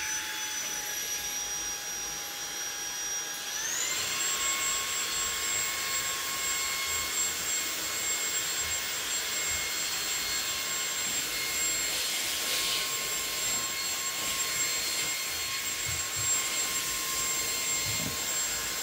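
A YOKEKON cordless stick vacuum cleaner with 22KPa suction runs steadily with a high, tonal motor whine over a broad airy rush. Its pitch steps up a few seconds in and holds there, with no one talking.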